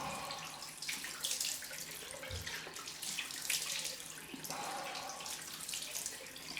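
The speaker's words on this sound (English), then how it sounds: "Cold rinse." Cold tap water runs steadily into a sink as a rinse during a straight-razor shave, a continuous broadband splashing and hiss lasting the whole stretch with no talking.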